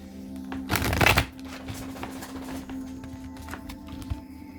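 A deck of tarot cards is shuffled close by, with one dense riffling burst early on followed by softer rustling and tapping of cards.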